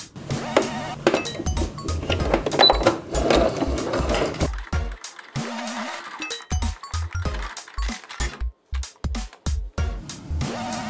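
A sewing machine stitches the side seam of a bag made from a reworked dress, running in bursts of rapid mechanical chatter broken by short pauses and small handling clicks.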